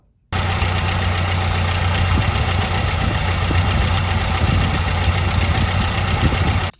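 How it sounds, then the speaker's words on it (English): A 1997 Chevy S10 with a 2.2 liter engine runs loud and steady, its idle carrying a metal-on-metal knock deep in the lower engine, with no voices over it. "we had a metal on metal lower engine noise. I'll play it for you now."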